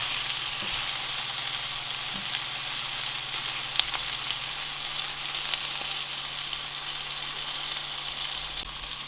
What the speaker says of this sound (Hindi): लेकिन इनको हम थोड़ा सा और फ्राई करेंगे